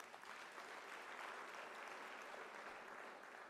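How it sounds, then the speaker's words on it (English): A graduation ceremony audience at the University of South Africa gives a sustained round of applause, a continuous, even wash of many hands clapping throughout, fairly distant and soft. "I think they deserve a round of applause"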